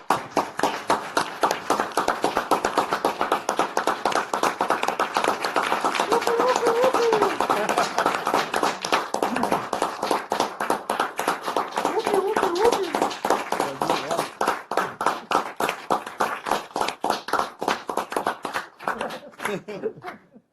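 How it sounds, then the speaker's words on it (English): Audience at a county board of supervisors meeting gives a round of applause, steady rhythmic clapping sustained for about twenty seconds, thinning into separate claps toward the end. "Let's all give him a round of applause."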